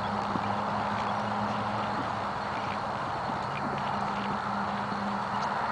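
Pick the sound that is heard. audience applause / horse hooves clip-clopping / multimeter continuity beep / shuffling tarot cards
horse hooves clip-clopping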